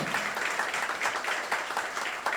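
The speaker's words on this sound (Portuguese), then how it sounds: "podem aplaudir" Steady, dense applause from an audience at a business debate forum in Caruaru, continuous clapping throughout the short stretch with no talk over it.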